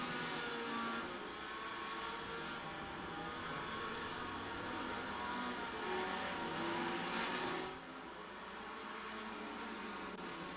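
Mazda race cars in the iRacing simulation drone steadily, their engine note rising and falling through gear changes, with no one talking.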